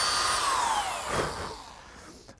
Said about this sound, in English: Now I'm pre-drilling holes for the screws that'll fasten the top.